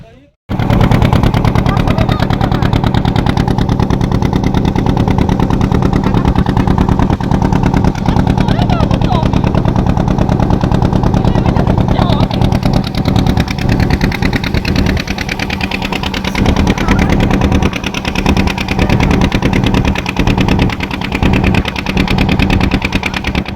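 A boat engine runs loud and close during a river crossing to Mousuni Island in cold weather, chugging and knocking in a steady, rapid rhythm without a break for over twenty seconds.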